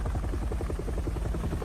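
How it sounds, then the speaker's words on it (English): A video-game helicopter descending, heard as a steady, loud rotor thrum with rapid rhythmic chopping pulses throughout, with no voices over it. "The helicopter comes down to rescue all of you"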